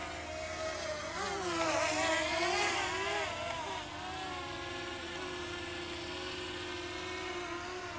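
A Bwine F7 Mini GPS drone flies nearby with a steady, loud propeller whine. Its pitch swells and wavers in the first few seconds, then settles into an even hover hum. No voices are heard.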